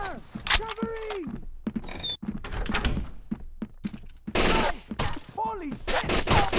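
Gunfire from the video game Rainbow Six Vegas 2 on PS3, with sharp close shots and bursts cracking irregularly among heavy thuds, while players shout over the fighting.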